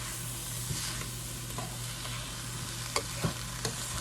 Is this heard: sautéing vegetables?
yes